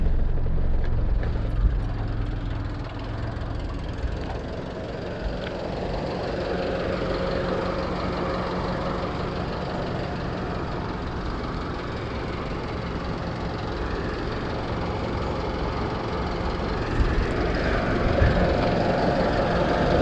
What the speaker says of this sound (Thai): ไปดูเสียงเครื่องยนต์กัน